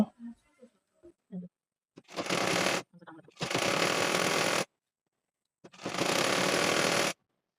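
A sewing machine stitches palazzo trouser fabric in two loud bursts of rapid mechanical running, with faint handling clicks and pauses before and between them.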